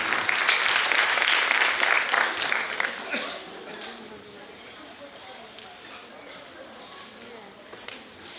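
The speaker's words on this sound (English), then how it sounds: "Please give a big round of applause for our little rising stars." Loud audience applause at an evening prize distribution ceremony honouring young winners, strongest for the first three seconds before fading into softer scattered clapping and murmuring crowd voices.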